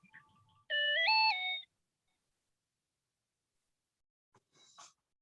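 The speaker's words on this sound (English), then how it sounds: "There's a notification, probably on Michael's phone." A phone notification chime plays as a bright, clear rising three-note melody that lasts under a second in an otherwise quiet room, with a brief faint second blip a few seconds later.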